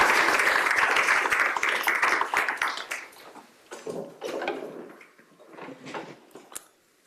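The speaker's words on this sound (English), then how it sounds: "please give Maggie another warm round of applause" An audience at a keynote event bursts into loud, full applause that thins after a few seconds into scattered, fading claps with brief lulls.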